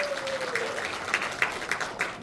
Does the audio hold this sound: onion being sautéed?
no